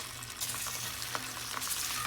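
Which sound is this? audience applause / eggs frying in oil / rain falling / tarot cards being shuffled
eggs frying in oil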